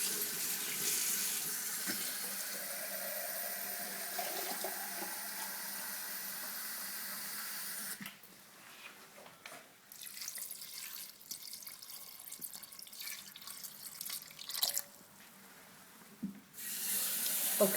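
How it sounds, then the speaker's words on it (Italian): A kitchen tap runs cold water over shredded salt cod, a steady hiss for several seconds, then stops and restarts in shorter splashing bursts as the bowl fills, fairly quiet. "Adesso lo ricopriamo con acqua fredda."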